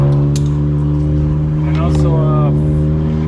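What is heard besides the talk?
Honda Accord Sport 1.5T exhaust with catted downpipe, muffler delete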